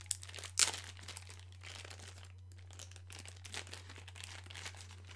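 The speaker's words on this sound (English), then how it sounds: "There's the tracer unit itself in this plastic wrapping. Let's break open this bad boy." Plastic wrapping around an AceTech Lighter S tracer unit crinkles as it is unwrapped. A sharp tearing crackle comes near the start, then softer scattered crinkles continue over a steady low hum.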